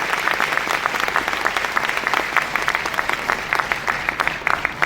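Audience applause at a stage event, many hands clapping in a dense, steady burst that stays fairly loud and close throughout, with no one speaking over it.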